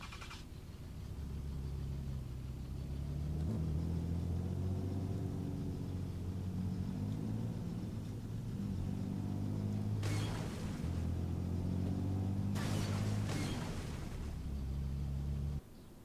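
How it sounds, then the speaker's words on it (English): A fire truck drives in the video game Civil, a steady low engine rumble that holds for most of the passage, with a few brief bright bursts of noise partway through. "But here's the fire truck, right?"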